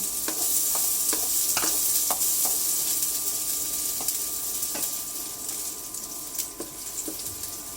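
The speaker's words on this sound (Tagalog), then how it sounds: "nagpainit na ako ng kawali and then magigisa po tayo ng sibuyas at bawang." Onion and garlic sauté in a hot pan, a steady broadband sizzle with repeated sharp scrapes and clicks of a utensil stirring, close and continuous, easing slightly toward the end.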